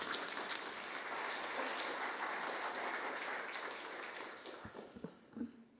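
An audience at a National Assembly humanities lecture in Korea greets the secretary general with steady applause that gradually thins out toward the end, leaving a few scattered claps and small noises.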